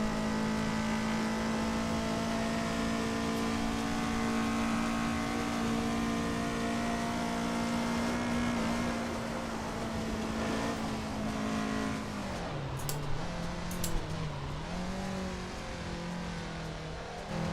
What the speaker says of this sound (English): Car sounds like one of those rental boats that you get on holiday with like a go-kart engine.